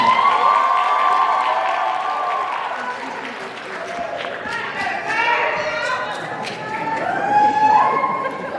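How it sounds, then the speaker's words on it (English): Audience applause at a Black History Month program in 2023, steady clapping mixed with cheering and crowd chatter that swells and fades across the whole stretch, with scattered voices rising above it. "Let's give them a round of applause."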